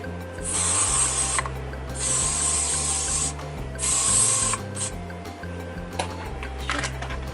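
Three bursts of aerosol hair spray hiss close by, each lasting about a second, separated by soft handling and rustling noises.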